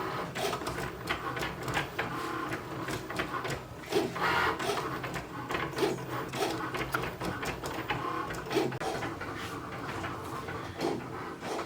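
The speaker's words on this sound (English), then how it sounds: "I'm gonna go ahead and get my next shirt design uploaded to the Cricut and get that started." A Cricut cutting machine cuts a shirt design, giving a continuous busy whirring with rapid clicking and ticking carriage movements. The sound is fairly quiet and close, with no voices.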